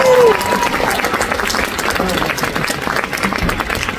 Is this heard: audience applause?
yes